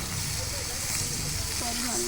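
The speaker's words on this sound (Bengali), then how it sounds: "ভাজা হয়ে গেছে, পানি দিতেছি" Water splashed into a hot frying pan of fried chillies hisses in a broad, steady sizzle through the whole stretch, close and fairly loud, with faint tonal clatter near the end.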